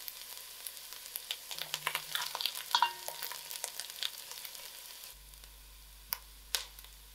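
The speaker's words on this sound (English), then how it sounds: "And I allow this to fry. Till it pops." Mustard seeds for a kadhi tempering fry in hot oil in a pan, giving a steady close sizzle broken by scattered sharp pops and crackles that later thin out to a few isolated bursts.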